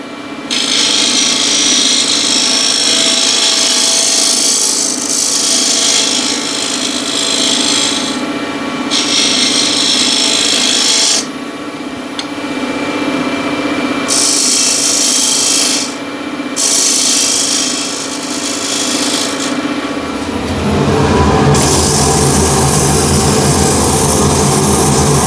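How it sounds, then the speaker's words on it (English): A round nose scraper cuts into spinning wood on a lathe, giving a loud, steady rasping scrape with motor hum under it. The scrape breaks off in short pauses, and after about twenty seconds it shifts to a lower, rougher tone. "Again, round nose scraper."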